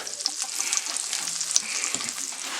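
Onions sizzle steadily in vegetable oil in a skillet, with a dense, continuous hiss and close, soft scraping as they are stirred throughout.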